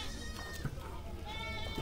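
Black goats at a goat market in Mullanpur bleat amid a busy crowd; a brief nasal call rises over steady background chatter and market noise.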